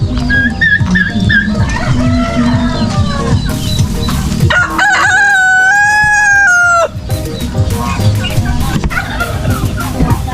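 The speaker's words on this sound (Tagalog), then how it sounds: "Ito po, pato, manok." Chickens cluck steadily and a rooster crows loudly and close in a backyard poultry pen that also keeps ducks and turkeys, with overlapping calls and a long crow near the middle.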